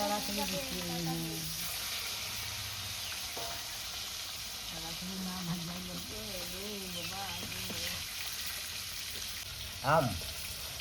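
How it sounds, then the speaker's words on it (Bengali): Shol fish keeps frying in a pan with a continuous close sizzle, while a voice speaks over it and a brief louder clatter comes near the end. "মাছ ভাজা হয়ে যাবে, তাড়াতাড়ি।"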